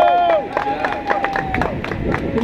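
Spectators at a 5K run/walk finish line clap and cheer in rhythmic bursts, a crowd close by with sharp hand claps and whistles over a steady murmur of chatter.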